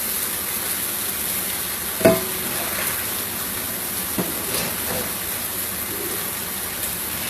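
Gravy simmering in a pan on a home stovetop, with a soft steady bubbling hiss and a few scraping stirs of a utensil, one sharper clink near the start, no talking.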